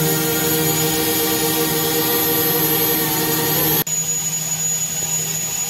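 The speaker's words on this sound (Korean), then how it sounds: "보일러 하부에 있는 맨홀에서 직접 드론만을 투입해서 보일러 내부로 드론이 들어가서요" An inspection drone flies up inside a tall power plant boiler, its rotors making a loud, steady, high-pitched whine that echoes in the enclosed space and shifts tone abruptly partway through.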